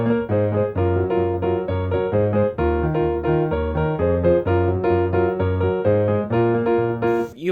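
A track built on a basic chord progression dressed up with rich extended harmonies: steady, sustained synth chords with a pulsing low bass, playing loud and continuous with no voices.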